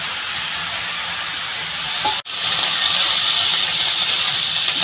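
Fried fish pieces go into a pan of cooking chana greens, producing a loud, continuous sizzling hiss up close, broken by one brief silent gap midway.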